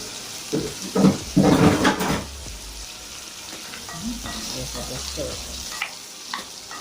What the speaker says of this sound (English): Let's put in the garlic in there